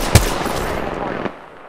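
Weapon fire in the Apex Legends battle royale: a sharp, loud gunshot blast at the start, then a rattling tail and a second fainter shot, ending in a quick fade.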